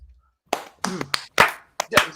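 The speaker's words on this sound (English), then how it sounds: "Do not clap for this man. Stop clapping, everyone." Scattered, loud hand claps from an audience at a comedy roast, sharp separate bursts after a short pause, close and dry with no talking over them.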